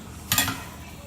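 A spoon clinks and scrapes briefly in a pan of Bolognese sauce with crushed tomatoes and passata, making a short, close stirring sound over quiet background.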